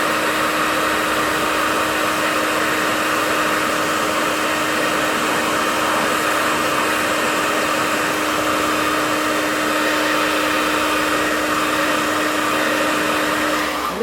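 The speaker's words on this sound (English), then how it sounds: "I use a hairdryer" A hair dryer blows on eyelashes with a loud, steady whir and a constant motor hum that holds unchanged for the whole stretch, with no talking.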